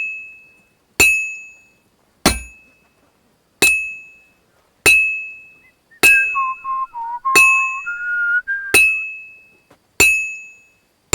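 A church bell tolls in the medieval game Kingdom Come: Deliverance II. Eight bright, ringing strikes fall at an even, unhurried pace, each decaying before the next, and a soft whistled melody wanders over the middle strikes.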